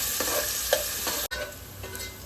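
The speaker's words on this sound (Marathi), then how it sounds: "आता तेल तापलंय, कांदा टाकूया. आता लसूण पण टाकूया त्यात. आता परतून घेऊया." Chopped onion and garlic sautéing in hot oil give a steady close sizzle, with a few stirring scrapes and a brief dropout midway before the frying carries on.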